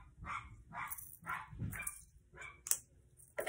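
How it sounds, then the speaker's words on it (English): A dog barks repeatedly nearby in a steady series of short yaps, with a few sharper noises near the end. "my dog is barking"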